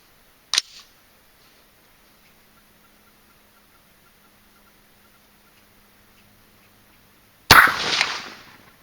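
Single rifle shot from a .223 Remington firing a 55-grain V-Max handload with Varget or IMR 4198 powder, a sharp loud crack with a short decaying tail near the end, after a faint click and a long quiet stretch.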